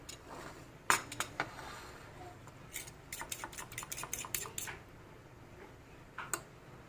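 Eggs are whisked for a chicken nugget coating: bursts of quick, sharp metallic clinks of a utensil against a bowl, a few isolated taps then a rapid rattling run, close and clear with no talking.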